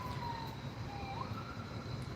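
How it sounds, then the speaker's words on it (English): Somewhere outside, an ambulance siren passes at a distance, its faint wailing tone rising and falling over low background hum. "Sounds like ambulance."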